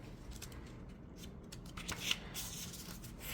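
A deck of oracle cards is shuffled close by, a run of quick papery riffling flutters with a sharper snap near the middle.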